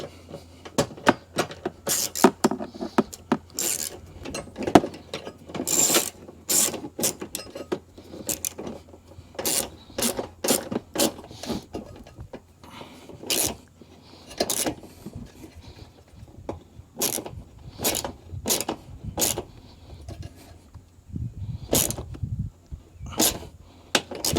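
A part is screwed in and hand-cranked onto a 2020 Subaru STI engine, giving a close, irregular series of sharp metallic clicks and knocks with short pauses and no talking.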